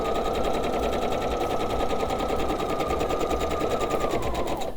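A sewing machine stitches pieced quilt block fabric with scant quarter-inch seams, running in a fast, even mechanical chatter for nearly five seconds before slowing to a stop at the end, close and loud, with no talking.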